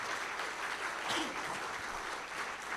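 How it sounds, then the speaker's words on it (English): An audience at a university inaugural lecture claps for Prof Foo, a soft, fairly distant wash of steady applause lasting the whole moment. "can we all give another big applause to Prof Foo?"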